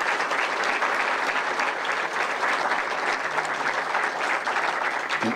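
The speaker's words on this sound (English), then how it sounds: "would you give a round of applause for Preston as well?" Steady audience applause at a men's basketball coach's introductory press conference, a dense sustained clapping of many hands that stays loud and even throughout, with no talking over it.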